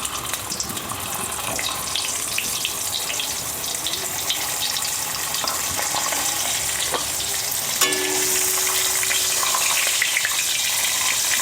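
Pointed gourds (potol) fry in oil just used for frying fish, a constant crackling sizzle with watery bubbling and a few scattered stir clicks.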